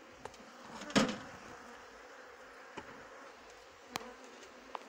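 Bees at an apiary hum faintly and steadily around a feeder box, a soft low drone with a few light clicks and one louder bump near the start.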